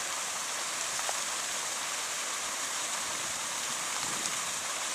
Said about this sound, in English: This is where that stream from the factory comes out.